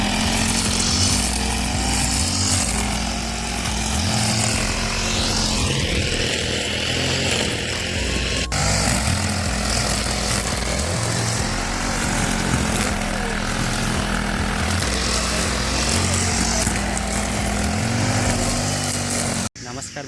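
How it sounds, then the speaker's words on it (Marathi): A cutter machine runs during work on a cricket ground, a loud continuous buzzing engine drone with shifting pitch, heard close by while people talk over it, ending with a brief drop near the finish. "कटर मारता इकडे पण काम चालू आहे, जोरात चालू आहे काम."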